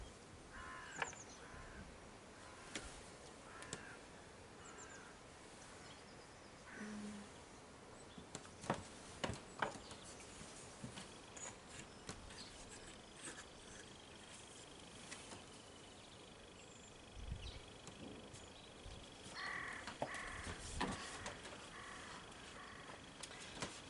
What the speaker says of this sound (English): So let's let the birds be a part of this.